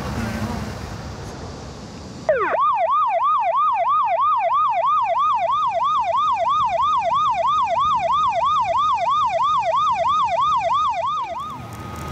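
Low ambient noise, then a parking enforcement vehicle's loud siren switches on abruptly and keeps wailing in rapid, even up-and-down sweeps before cutting off near the end, in Cheongju's Gangseo district, South Korea.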